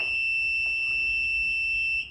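Stairlift warning beeper sounding while the lift moves, a steady, piercing electronic tone held continuously for about two seconds before cutting off, with faint low rumble beneath.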